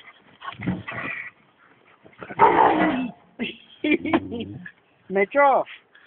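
A dog gives low growls and short whimpering yips in bursts, close by, alternating with a person talking.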